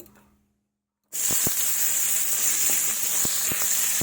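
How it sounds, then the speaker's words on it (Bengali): Chopped onion drops into hot oil left from frying a large fish, bursting into a loud, steady sizzle that sets in abruptly after a near-silent pause, with a few light clicks and pops. "এবার আমি পেঁয়াজ কুচি দিয়ে দেব।"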